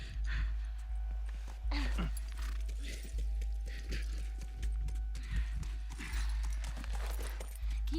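Horse hooves clip-clopping in The Last of Us, a steady rhythmic clatter of hoofbeats over a constant low hum, moderately quiet, with faint game sounds around it.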